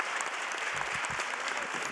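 An audience fills a conference hall with dense, steady applause, an even wash of clapping that holds for about two seconds.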